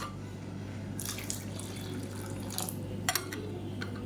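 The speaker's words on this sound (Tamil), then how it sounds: "இப்போ இது கெட்டியாக இருக்குது இன்னும் கொஞ்சம் தண்ணி சேர்த்துக்கலாம்" Hot water is poured in short splashy bursts into a thick egg curry masala simmering on a medium flame, with a steady low hum in the background and no talk.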